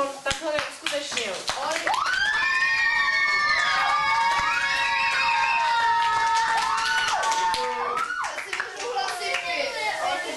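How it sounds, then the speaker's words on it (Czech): At a children's summer camp, kids clap for their head leader. Sharp, irregular claps run under loud children's voices, calls and excited chatter through most of the stretch. "největší potlesk"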